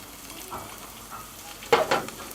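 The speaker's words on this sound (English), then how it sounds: "we're now going to add the rest of the rosemary and the thyme. Give them a bit of a stir" Mini potatoes stirred in a hot pan with rosemary and thyme, a soft sizzle running underneath and a couple of sharper scraping stirs near the end.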